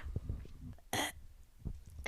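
A person imitates a burp with their voice, making one short, throaty burst between quiet sounds close to the microphone.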